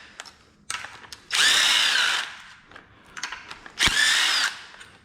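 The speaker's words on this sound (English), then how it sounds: "I actually do have my DeWalt 3/8 guns here, so I'm gonna use that" A DeWalt 3/8 impact gun zapping bolts off a BMW M50 engine during a teardown: two loud, sustained whirring bursts of about a second each, separated by clicks and light handling clatter.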